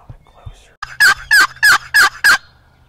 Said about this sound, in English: Did he just gobble again?